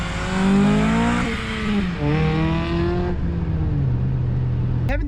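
A 2007 Acura TSX, Canadian chassis, with a catback exhaust and aftermarket intake revs hard, its engine note climbing and falling in loud sustained pulls up close, with a brief voice near the end.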